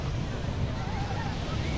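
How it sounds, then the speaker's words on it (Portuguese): Ocean waves at Nazaré beach in Portugal, heard as a continuous low wash of surf mixed with wind buffeting the microphone, with no clear voice over it. "As ondas não são altas."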